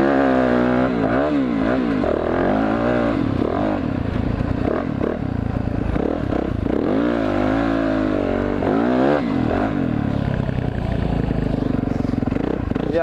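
Dirt bike engine revving while stuck in sand, rising and falling throttle bursts that repeat roughly every couple of seconds, close and loud, with voices talking over it.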